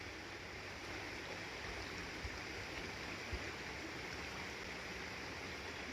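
A flowing river heard as a steady broadband rushing wash, quiet and constant with faint occasional low knocks, no voices present.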